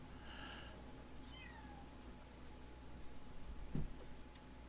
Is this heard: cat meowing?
yes